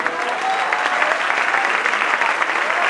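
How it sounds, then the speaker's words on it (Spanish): Loud, sustained applause from a Spanish-speaking church audience during a sermon, a dense, even roar of clapping hands with faint crowd voices beneath it. "Denle un aplauso al que vive."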